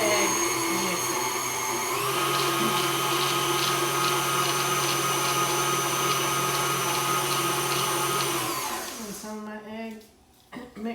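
An electric mixer whirs steadily through cheesecake batter after an egg is added, a loud continuous motor drone that shifts pitch slightly before cutting off near the end, followed by brief quieter handling sounds.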